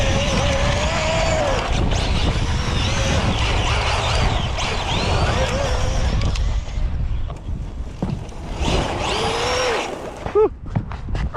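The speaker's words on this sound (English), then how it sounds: "Oh, that drift. That looks like it drifts so good" A Traxxas X-Maxx 8S electric RC monster truck drifting outdoors produces a loud, continuous motor whine with rising and falling pitch, rushing wind and tire noise, easing off toward the end before a few sharp bursts.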